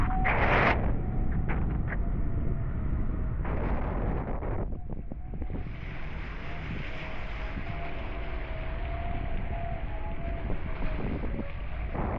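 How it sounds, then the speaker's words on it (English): Strong wind buffets the microphone for several seconds, a continuous roaring rush with bursts of gusting noise and some mechanical rumble underneath. "Really windy."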